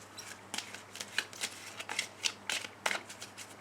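A deck of oracle cards shuffled for a love reading gives quick, crisp riffling bursts in an irregular rhythm, close up and clear, with no talking.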